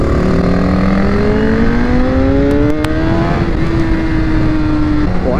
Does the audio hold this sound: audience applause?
no